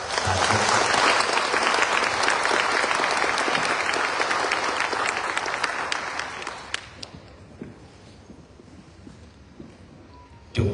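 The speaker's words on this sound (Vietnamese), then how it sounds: "Xin tất cả đạo tràng xin tràng pháo tay." An assembly at a Buddhist retreat opening in Oslo, Norway, breaks into loud, dense applause that holds for several seconds, then thins to scattered claps and fades.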